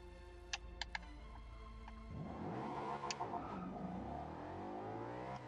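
An Audi RS5 Coupe in Forza Horizon 2 pulls away from a standing start, its engine rising from a low idle into a sustained, revving acceleration, heard alone after a few faint ticks.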